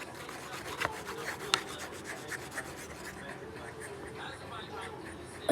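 A person imitating the sound of a pen writing on paper: soft continuous scratchy rubbing strokes with a few sharper ticks, faint and close, with no speech over it.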